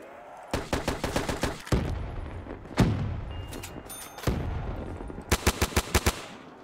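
Trench gun shots blast in Call of Duty custom zombies on the Nacht Der Untoten map: a quick string of sharp close reports, a lone heavy shot, then another tight volley of loud bangs near the end.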